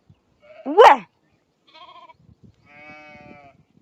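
Goats and sheep bleat close by in an open rural setting, one loud wavering cry followed by two shorter, fainter bleats with quiet pauses between them.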